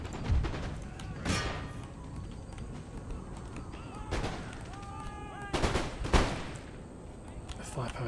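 Scattered musket volleys and artillery booms in Empire Total War, sharp cracks spaced irregularly across the battle with horse hooves and ambient battlefield noise, medium-far, under talk.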